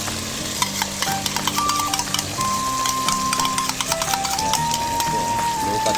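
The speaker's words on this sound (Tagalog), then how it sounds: "Haluin po yan para po lumasa doon sa hipon." Butter garlic shrimp stirred in a pan over steady frying sizzle, with repeated scraping and clinking of the utensil against the pan throughout; close and fairly loud, with a faint tonal hum in the background.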